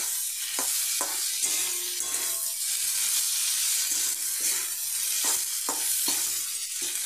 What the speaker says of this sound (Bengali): এবার আমি গ্যাসটা হাই ফ্লেমে করে লাল করে ভেজে নেব।